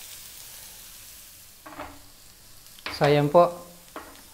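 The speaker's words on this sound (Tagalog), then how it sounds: "Toasted na yung ating garlic, onion, and chili." Garlic, onion and chili frying in a skillet for pork chops: a steady low sizzle runs underneath while a voice speaks briefly over it.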